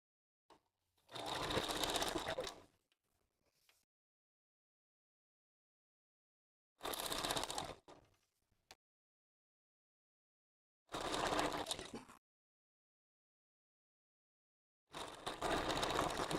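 Sewing machine stitching and backstitching hair wefts onto a wig, four short bursts of rapid mechanical whirring separated by silent pauses, close and clear.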